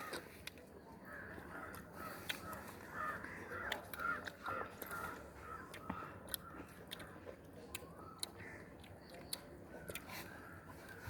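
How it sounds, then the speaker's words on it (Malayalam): Crows caw repeatedly outdoors, their harsh calls fairly close and recurring in short bursts over a steady background hum, with no talking. "ഗൈസ് കാക്ക പറയുന്നുണ്ട്"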